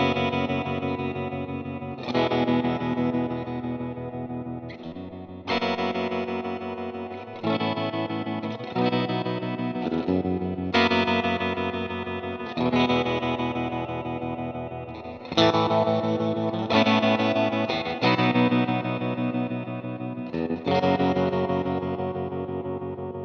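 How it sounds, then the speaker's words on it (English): An electric guitar runs through a Strymon Flint pedal set to 65 tremolo with 70s plate reverb, sustained chords pulsing in a steady throb, each new strum ringing out and washing into a lush decaying tail. "Let's check out the 65 tremolo. Let's use the 70s plate for that."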